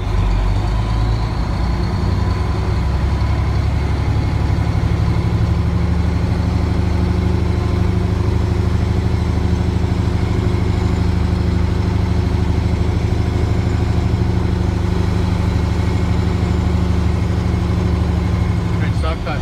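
A learner driver's car engine is given gas, holding a steady low engine drone that runs throughout at fairly constant loudness, with an instructor speaking over it.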